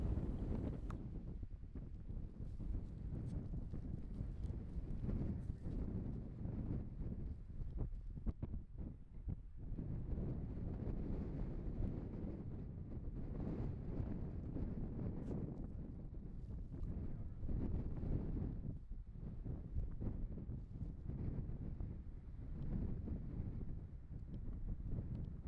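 Outdoor wind during a bison hunt buffets the microphone in loud, continuous gusts and rumbling roar that rise and fall over the whole stretch, with no voices heard.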